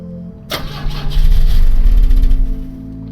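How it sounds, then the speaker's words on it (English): A car engine in The Drifter game cranking over but failing to fire, a sharp click then a loud, rapid churning starter rhythm for about two seconds before it stops without catching. "It's still not firing. Better check the engine again."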